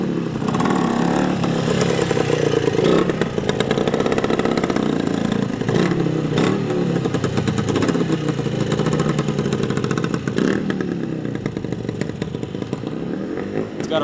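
A 1971 Yamaha DT1MX 250 two-stroke motorcycle with a freshly rebuilt motor runs steadily near and loud, its engine note holding fairly constant with slight revving swells throughout, alone without talk.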